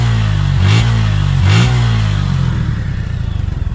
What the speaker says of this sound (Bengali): এই যে বাইকের এক্সজস্টের সাউন্ড আপনাদেরকে শোনাই দিলাম।